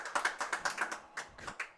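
Applause from a tennis crowd after a point in a women's singles final at the Vero Beach Open, heard as a burst of quick, dense clapping that thins out over about two seconds.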